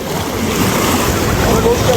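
Sea waves at a beach in Antalya, a loud steady wash of surf and water roar with wind buffeting the microphone, continuous and close throughout.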